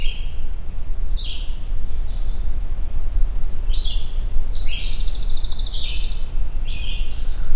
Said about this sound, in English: There we go, pine warbler.